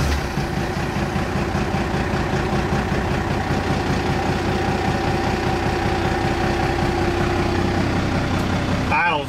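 A first-generation heavy tow rig diesel truck with new injectors sits idling after being started, a steady low rumbling engine drone, close and continuous, with faint talking in the background.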